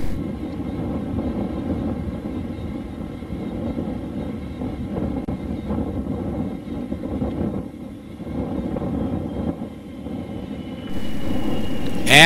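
A Fouga 170 jet aircraft descends on approach with gear and flaps down for a touch and go. The steady engine roar is loud and continuous, and a rushing surge comes in near the end.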